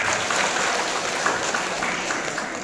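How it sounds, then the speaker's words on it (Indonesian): Dense, steady applause from an audience at a speech by the head of the Nias Utara religious affairs office, a continuous wash of clapping lasting the whole moment with no clear voice on top. "Tepuk tangan buat beliau."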